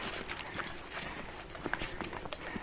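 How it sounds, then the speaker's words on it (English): Hooves clip-clop steadily on hard ground as horses walk nearby, with faint outdoor background noise. "Now, bloody horses now."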